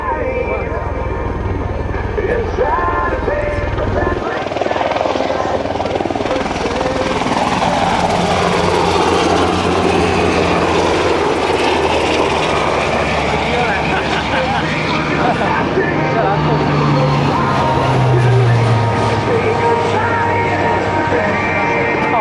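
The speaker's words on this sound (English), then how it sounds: "flying the UH-60 Blackhawk, followed by Company Delta, 126 Feeder Aviation Company, flying the C-23 Sherpa" UH-60 Black Hawk helicopters and a C-23 Sherpa aircraft flying past at an Air National Guard airshow combined arms demonstration, a loud continuous roar of rotors and engines swelling and fading, with an announcer's voice over it.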